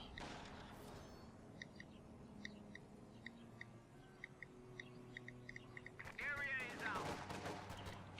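Scattered rifle and sniper shots from Company of Heroes 2 crack faintly under a low game ambience, followed near the end by a louder cluster of gunfire and effects.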